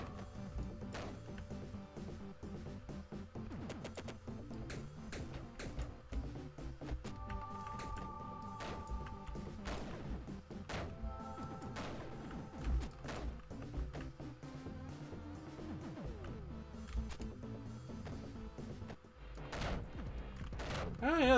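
Shotgun blasts in the video game And All Would Cry Beware, scattered sharp shots amid game sound effects and music, with a voice talking intermittently over the action.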